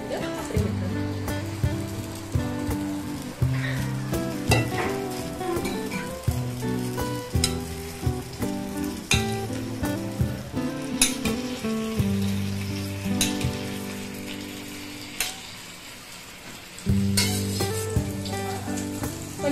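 Slices of bread soaked in milk, egg and sugar sizzle steadily in a pan on a stove, a continuous frying crackle over rhythmic background music.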